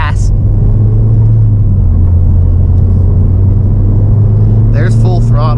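A Ford Fiesta ST engine held at full throttle with a throttle pedal spacer fitted, a loud steady low drone heard from inside the car, with brief squeaks near the end.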